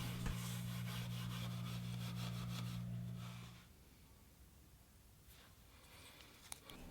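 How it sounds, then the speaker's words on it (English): Steel wool rubs gently over the lacquered wood base of a live edge chess board, a steady close scratchy rubbing with a low hum beneath for about three and a half seconds before it stops and quiet room noise remains. "I gently rubbed it with some steel wool, and that made the finish really nice and smooth."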